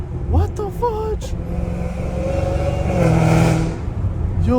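A Hellcat Redeye car engine revs and roars in Los Angeles, a loud rising drone that swells toward the middle, with a person talking excitedly over it at the start.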